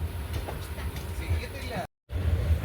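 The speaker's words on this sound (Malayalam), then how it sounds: "കൊല്ലം ജംഗ്ഷനിൽ നിന്ന് അങ്ങനെ ട്രെയിൻ പതുക്കെ നീങ്ങി തുടങ്ങിയിരിക്കുകയാണ്" A Kollam–Nagercoil express passenger train begins slowly pulling out of Kollam Junction, a low rumbling carriage noise with faint clanks and a brief dropout in the sound.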